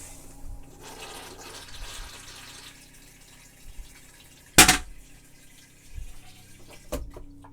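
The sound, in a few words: toilet flushing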